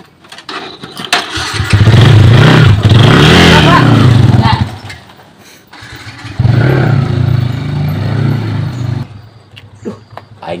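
A motorcycle engine starts and revs loudly nearby in two long surges, dropping between them, with people talking over it.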